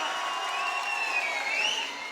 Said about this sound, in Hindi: तालियां बजाओ फिर इसी बात पे